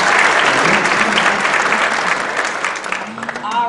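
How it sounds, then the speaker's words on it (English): A school concert audience at a contest concert applauds after a trumpet solo. Loud, dense clapping fills the hall and thins slightly toward the end. "one more round of applause for Ashton Baker with our trumpet solo"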